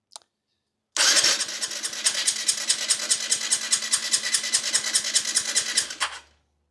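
A 125cc race bike engine with no carburetor is turned over by the starter for a compression test, giving about five seconds of loud, rapid, evenly pulsing cranking that then winds down to silence.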